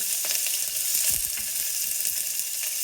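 Sliced onions hit a hot mustard-seed tempering for avarekaalu sambar and fry with a bright, continuous sizzle, punctuated by a few soft stirring scrapes close up, with no talking.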